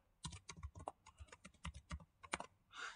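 Quick bursts of keystrokes tap out an administrator username and password on a computer keyboard, light and close in a quiet room, ending with a brief softer rustle.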